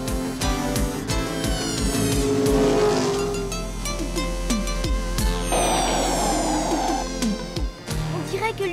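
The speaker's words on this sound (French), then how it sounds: "Le camion accélère." A truck speeds up during a chase in the animated series Pole Position, with engine tones rising and falling over a busy soundtrack of music and effects, loud and continuous throughout.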